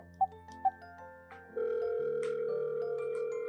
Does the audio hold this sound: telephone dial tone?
yes